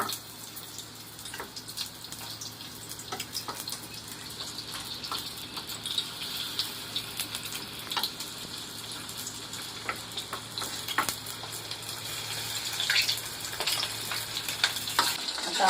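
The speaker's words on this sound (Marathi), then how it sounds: "आता हे पनीर टाकून डिप करून याच्यामध्ये" Paneer pieces dipped in batter and frying in hot oil, a steady crackling sizzle throughout with occasional sharper pops, close and moderately loud, no voices.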